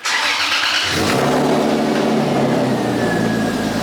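A Lexus IS300 with its interior stripped out cranks and starts, then idles and revs steadily as it backs out, loud and close throughout.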